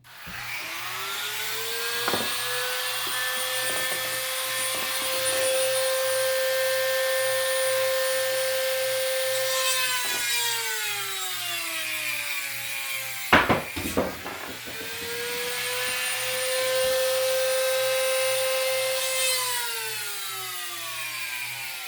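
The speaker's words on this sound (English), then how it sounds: "And I take it back to my Dremel." A Dremel rotary tool cutting into wood, its high motor whine loud and close, dipping in pitch as the bit bites, pausing briefly midway and then spinning up again.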